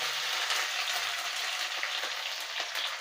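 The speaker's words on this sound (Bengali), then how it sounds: "এটা একটু হালকা করে ভেজে নেবো পেঁয়াজটা" Thick-cut onion frying in leftover oil from fried fish roe, giving a dense, continuous sizzle that holds steady and close for the whole stretch, with faint stirring ticks and no voices.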